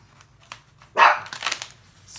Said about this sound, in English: Excuse my dog, he's always want to bark when I'm recording.